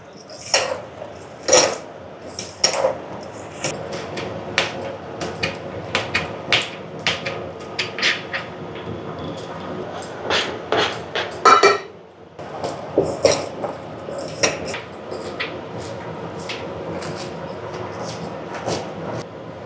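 An evening snack mixture is kneaded firmly by hand in a bowl, with repeated clinks and knocks against the dish in irregular bursts, fairly close, and no talking.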